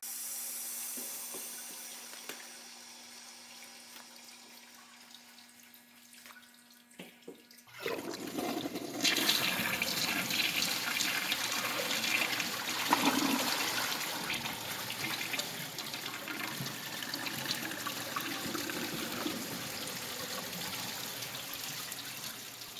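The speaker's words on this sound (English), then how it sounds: "First time it appeared that it was a pretty normal flush." A clogged toilet being tested after clearing a stoppage flushes: a quiet trickle first, then a sudden loud rush of swirling water that roars steadily and close for about fifteen seconds.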